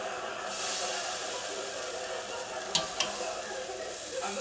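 Browned steak pieces, still bloody inside, sizzle steadily as they slip back into a pan of gravy, a close, continuous hiss with a couple of sharp clicks partway through.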